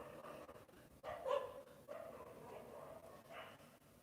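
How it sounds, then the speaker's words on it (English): Several dogs bark outdoors at a distance, a few faint irregular barks rising over steady background noise, with no nearby talk. "If you can hear these dogs."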